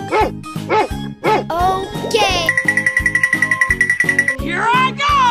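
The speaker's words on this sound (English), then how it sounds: "Dog." Cartoon dog barking in an animal transformation cartoon, a few quick bright yips near the start followed by chiming and a rapid pulsing effect, with a voice briefly speaking.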